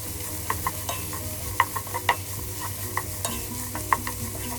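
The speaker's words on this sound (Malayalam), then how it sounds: "ക്യാപ്സിക്കം ചേർത്ത് നന്നായിട്ട് മിക്സ് ചെയ്യുക" Capsicum being stir-fried in a pan for fried rice, with steady sizzling and repeated sharp scrapes and clinks of a spatula stirring, close and clear, with no talk.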